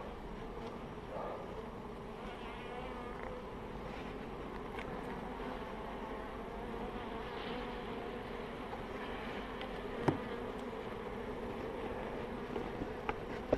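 Honeybees hum steadily around an open beehive set among lavender in July, a soft continuous buzzing drone that stays low and even throughout, with a faint click near the end.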